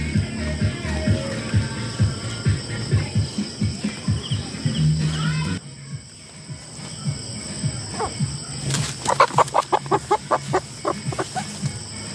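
Chickens cluck in short repeated bursts close by, with a rooster-like squawk and rapid clucking toward the end.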